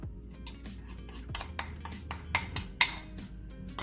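Ingredients hit a hot skillet with two spoonfuls of oil on medium-low heat and are stirred, producing quiet scraping and clinking of a utensil against the pan in irregular strokes with soft sizzling between them, close and without talk.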